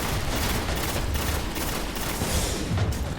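A boss in the video game Destiny fires a relentless rocket barrage: dense, overlapping blasts and booms roll on without pause, loud and continuous.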